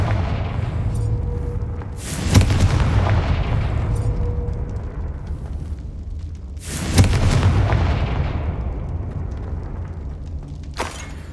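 Confringo spell blasts in the Hogwarts Legacy video game land as two loud booming explosions a few seconds apart, with a third shorter burst at the end over a low rumbling background.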